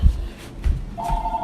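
A telephone starts ringing near the end with a steady electronic tone, entering over low background rumble and muffled talk.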